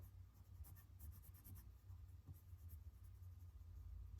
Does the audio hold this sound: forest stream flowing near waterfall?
no